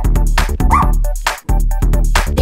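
A dog barks and yips repeatedly over loud, bouncy music in a children's nursery-rhyme song, the barks landing in a quick rhythmic pattern almost throughout.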